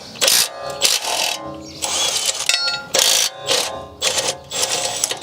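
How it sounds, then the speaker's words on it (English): Two 16mm caliper bracket bolts come off a BMW E90-series rear hub as close, loud bursts of tool rattling, metallic clicks and ratcheting, repeating in uneven spurts over several seconds. "Just 2 16mm bolts to undo."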